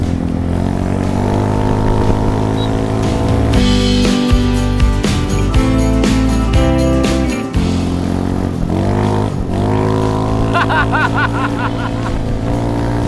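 A modified motorcycle fitted with a Volkswagen Beetle engine, a Volkspod, rumbles loudly and close as the rider works the throttle, its deep air-cooled note rising and falling with revs throughout.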